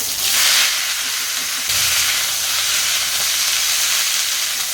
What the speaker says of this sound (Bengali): তরকারিটা বসিয়ে দিই।